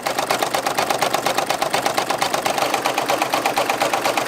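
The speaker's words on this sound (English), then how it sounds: "now we'll go ahead and toss it back into the machine, and it's going to do our satin stitches across the center here." An in-the-hoop embroidery machine sews satin stitches across the centre of a fabric face mask, a loud, fast, steady mechanical rattle with rapid regular needle beats and no pauses.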